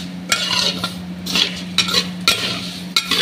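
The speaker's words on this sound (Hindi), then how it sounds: "हमने अच्छी तरह से सेमिया को भून लिया।" Semiya vermicelli roasting in a pan while a utensil stirs it, giving repeated close scraping strokes at an irregular pace over a steady low hum.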